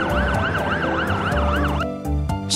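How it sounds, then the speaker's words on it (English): A fire truck siren wails loudly and close, its pitch sweeping up and down in steady repeated cycles before briefly shifting tone near the end, with the rumble of the vehicle underneath and no talking. "Fire truck."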